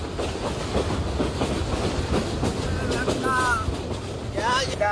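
Train moving on rails with people riding and serving food and drink on its roof, a continuous loud rumbling clatter with rhythmic clicks, some whistling tones near the end, with voices in the background.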